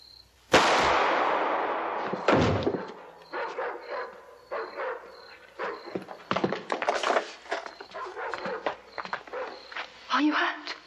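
Gunfire in a film scene: one sharp, loud blast, a second shot about two seconds later, then a run of scattered cracks and bangs mixed with voices and commotion.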